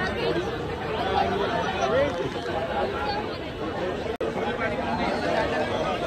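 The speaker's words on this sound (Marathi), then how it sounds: "गर्दी आहे" Dense crowd chatter surrounds Kashi Chaat Bhandar, a busy chaat food stall in Kashi, a steady close babble of many voices with one brief dropout near the end.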